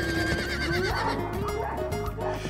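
A horse at a colonial hacienda in Ecuador gives a loud, close whinny, a shaky rising and falling cry that fills most of the short clip.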